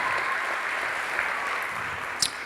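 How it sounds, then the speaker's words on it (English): Steady, dense applause from a crowd at a wedding reception, even and sustained throughout, with no voices standing out. "can I get a round of applause for the lovely couple, please?"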